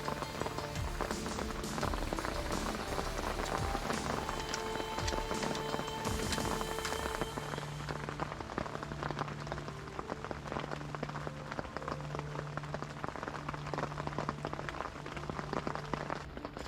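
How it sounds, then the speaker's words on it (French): Heavy summer rain pours steadily beside a river during carp fishing, a dense continuous patter of drops on surfaces that stays loud throughout with no talk. "Quel temps, 28 juin, grosse pluie"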